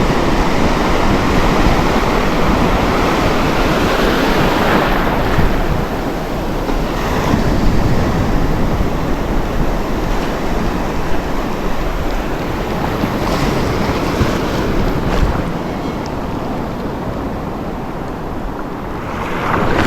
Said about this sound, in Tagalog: medyo malalaki yung alon ngayon mga lods